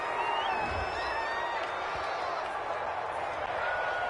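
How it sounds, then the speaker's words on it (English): A football stadium crowd reacts angrily to a penalty call, a broad, steady roar of disapproving voices with a few sharper shouts and whistles rising above it. "this crowd does not like that call"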